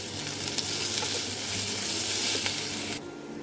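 Sliced onion frying with garlic and ginger paste, a dense close hissing sizzle with a few soft spoon taps, the bright crackle easing slightly near the end; no voices.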